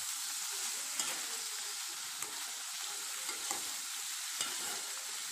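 Pumpkin sizzles steadily in hot oil close up, with occasional light scraping taps of stirring.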